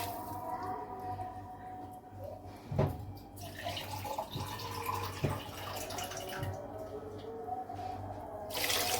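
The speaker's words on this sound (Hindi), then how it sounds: "पानी चला जाएगा" Water runs steadily and splashes into a cooking pot for mutton and spinach curry over a constant background hum, with a few clinks and a brief louder gush near the end.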